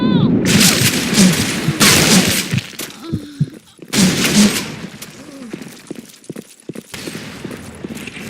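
Grenade blasts and rapid gunfire from the game Sand Storm come loud and close in repeated bursts, with sharp shots and booms scattered throughout, and shouted voices appearing briefly between them.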